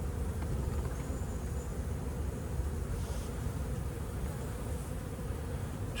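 Bees swarm and buzz steadily around a cheap plastic bucket trap outdoors, a dense, continuous drone of many insects close by, with no voices.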